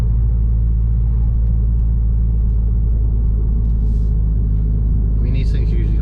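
A Dodge Dart GT fitted with an MPX exhaust drives uphill in sixth gear, a loud, steady low engine rumble from inside the cabin with a little faint talking.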